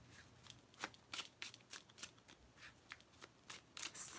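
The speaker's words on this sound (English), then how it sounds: "let's pull a card for you then, Barbara." Tarot cards are riffled and shuffled up close, giving a quick run of soft, papery flicks and slaps in an irregular rhythm for a few seconds. The room is otherwise quiet.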